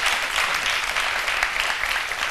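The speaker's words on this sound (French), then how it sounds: "On applaudit très fort Alissa Zena." Loud, dense studio audience applause on a French midday television show, a continuous wash of clapping with no pause across the short stretch.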